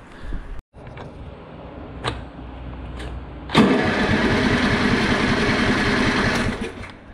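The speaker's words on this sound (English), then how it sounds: "We're going to fire it up, see what happens." A lawn mower engine sputters through a few pull attempts, then catches and settles into a loud, steady running drone that lasts several seconds before easing off.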